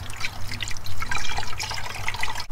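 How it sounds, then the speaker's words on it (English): Liquid coolant, antifreeze or water, pours into the coolant reservoir of a C5 Corvette with an LS1 engine, making a close, steady gurgling trickle and splash for a couple of seconds with no talking. "we're gonna fill this up with antifreeze, and then we'll fill this up with water"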